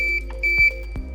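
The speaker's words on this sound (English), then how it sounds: "press and hold the square button until the buzzer beeps" Short electronic beeps at a steady pitch from a traffic barrier control panel buzzer sound a few times, close and clear, with faint clicks between them and no talking.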